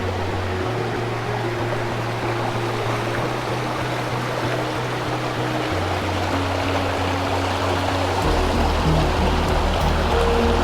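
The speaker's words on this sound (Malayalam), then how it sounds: "വെള്ളം അങ്ങനെ ഒഴുകി ഒഴുകി ഒഴുകി ഒഴുകി ഒഴുകി ഒഴുകി ഒഴുകി ഒഴുകി താഴോട്ടിങ്ങനെ പോകുന്നുണ്ട്." Water of a forest waterfall flows downstream in a steady, loud rush of broadband noise, with a faint tonal hum underneath and no voices throughout.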